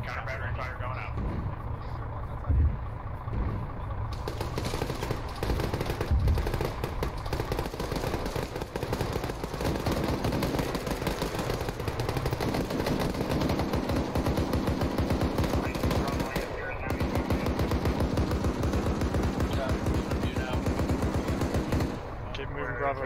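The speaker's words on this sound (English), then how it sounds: "Counter battery fire going out." Counter-battery artillery and rapid gunfire rumble continuously through a military video game battle, dense bursts of shots layered over heavy booms, with radio-style voices talking over the din.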